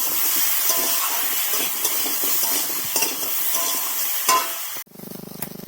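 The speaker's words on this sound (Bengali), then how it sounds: "দিয়ে ভালো করে কষিয়ে নেব।" Ground spice paste of mustard, cumin, coriander and fennel sizzles loudly in a pan while being stirred, a steady close hiss with scraping accents, dropping abruptly near the end to a softer, pulsing fry.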